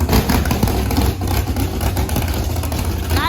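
A 10.3 liter big block engine runs hard on a dyno with a loud, close, throaty roar that holds steady for a few seconds.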